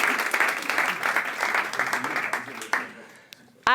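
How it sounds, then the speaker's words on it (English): Audience clapping at a smart city summit conference in Vienna, a dense burst of many hands applauding steadily before tapering off and fading near the end. "You can clap. It's good to clap in the morning,"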